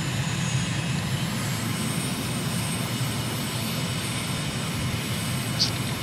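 A steady, dense aircraft engine drone in Microsoft Flight Simulator, with the plane cruising low through fjord valleys near Stavanger, Norway, holds unchanged throughout without any talk.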